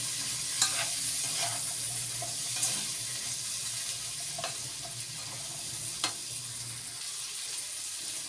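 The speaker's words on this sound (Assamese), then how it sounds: "এতিয়া মই খুব ভালদৰে লৰাই ল'ম আৰু আন্দাজমতে মই ইয়াত নিমখ দি দিম" A spatula stirs mixed vegetables with fresh green chilies in a pan, giving a steady, quiet sizzle broken by a few sharp scrapes and clinks against the pan, with no voices.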